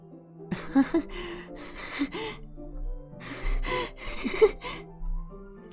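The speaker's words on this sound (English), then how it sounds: "A sharp inhale, like someone is sucking the air through their teeth." In the video game Doki Doki Literature Club Plus, a close, hissing sharp inhale through the teeth comes in a few drawn-out breaths and gasps over a low droning background tone.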